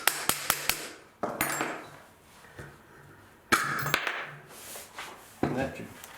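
A hammer gently taps out a cover during disassembly of an astronomical skeleton clock, with a quick run of light metallic taps followed by scattered single knocks and clatter, close and fairly quiet, with a voice speaking between them.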